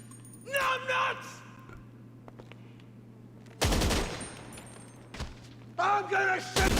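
Automatic gunfire in GTA 5 Online as a magazine is emptied: several loud, rapid bursts of shots separated by pauses, with a steady hum underneath and shouting voices between the volleys.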